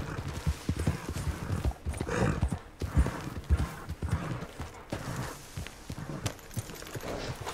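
A lone horse's hooves clip-clop at a steady walking pace on a mountain trail in the video game Red Dead Redemption 2, soft and fairly quiet.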